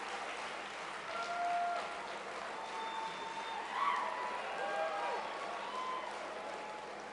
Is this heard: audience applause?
yes